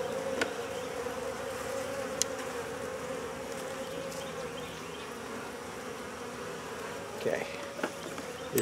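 Honey bees buzz around an open deep hive as frames of nectar are handled, a constant, dense drone filling the background with a few brief knocks and handling noises, no speech.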